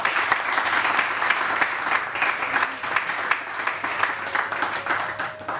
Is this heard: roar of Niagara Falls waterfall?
no